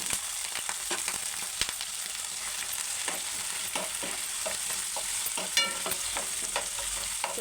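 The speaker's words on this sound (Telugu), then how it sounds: "కొద్దిగా లైట్ బ్రౌన్ కలర్ వచ్చిన దాకా వేయించుకోవాలి." Thinly sliced onions fry in a little oil, giving a steady sizzle broken by frequent scraping and clicking stirs of a spoon against the pan, close and continuous with no talking.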